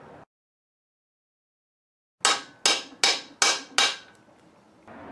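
Freeze plugs are driven into a BMW M10 engine block with five sharp, evenly spaced hammer blows, close and loud after a brief silence.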